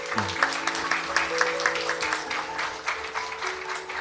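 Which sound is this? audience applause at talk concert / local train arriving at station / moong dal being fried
audience applause at talk concert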